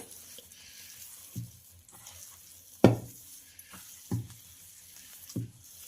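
A spoon stirs potato bhaji batter in a bowl after baking soda goes in, making close, soft wet scrapes and four or five sharper knocks against the bowl at uneven intervals over a quiet background.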